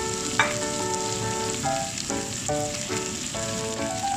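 Garlic chive flowers and liver stir-fry in a pan for a Thai dish: a constant close sizzle runs throughout, broken by several ringing metallic clinks of a spatula against the pan.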